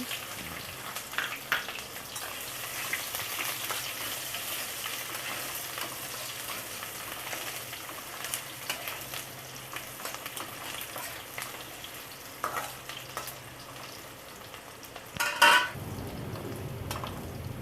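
Sliced onions fry in hot oil with cardamom in a pan, giving a steady loud sizzle throughout, with occasional scraping and clinks of a spoon stirring, and a sharper clatter near the end.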